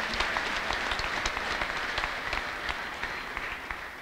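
Church congregation applauding a new Christian at a prophet's service, a steady mass of clapping from many hands at moderate distance, continuous throughout without talk.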